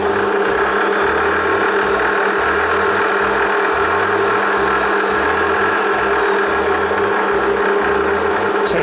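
A metal lathe being started up in a workshop while making Z bars, with a steady mechanical whine and hum underscored by a regular low rhythmic thumping from the rotating work, loud and close with no speech.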